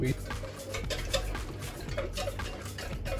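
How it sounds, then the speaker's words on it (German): A spoon stirring honey into a marinade in a bowl, making repeated light clinks and scrapes in an uneven rhythm, close up and fairly quiet. "Und das soll ich jetzt erstmal umrühren."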